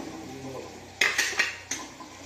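Metal spoon scraping and tapping against a pan as red chili powder and homemade spice mix go in, a few sharp clinks over quiet kitchen background.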